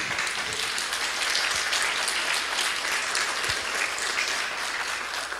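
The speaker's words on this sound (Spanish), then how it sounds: "Denle un aplauso." A church congregation applauds during a Spanish-language sermon, a dense, steady wash of many hands clapping at even loudness for several seconds with no voices over it.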